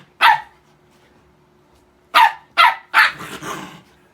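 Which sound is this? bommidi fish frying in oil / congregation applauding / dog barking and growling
dog barking and growling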